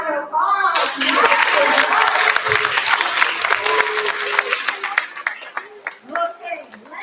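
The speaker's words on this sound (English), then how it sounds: "Give them a round of applause." Applause from the audience at a 5th grade school chorus spring concert, dense clapping building quickly then thinning out, with voices and chatter mixed in toward the end.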